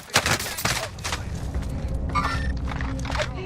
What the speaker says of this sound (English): Oh, who's shooting me?